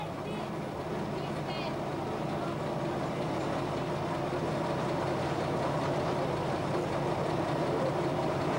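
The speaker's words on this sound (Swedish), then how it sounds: "Så lägger tåget ut från stationen." A passenger train pulling out of a station in Peru gives a low, continuous rumble and rolling rail noise, moderately loud and steady, with a voice speaking over it.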